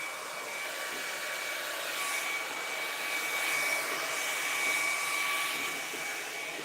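A hair dryer gives a continuous, even blowing hum throughout while blowing out and straightening 4c hair, with no talking over it.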